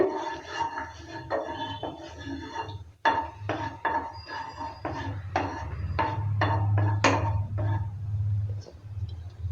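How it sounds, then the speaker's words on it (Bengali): A ladle spreading mustard oil around a pan, heard as close metallic scrapes and taps in an uneven rhythm over a steady low hum of heating oil. "একটা হাতা দিয়ে সর্ষের তেলটাকে চারিদিকে ছড়িয়ে দিচ্ছি"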